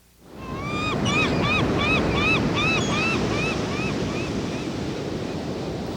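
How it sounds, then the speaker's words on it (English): Pacific Ocean surf breaking near the mouth of the Columbia River, a loud, steady roar of waves with wind, while a series of bird-like whistling calls rises and falls over it early on. "the explorers had gotten their first glimpse of the Pacific surf near the mouth of the Columbia River."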